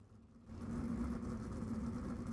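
Sprint car engines in a racing video game roll out onto the dirt track at Williams Grove, a steady mid-pitched engine drone with a low rumble that swells after a quieter start and holds continuous, with no talk.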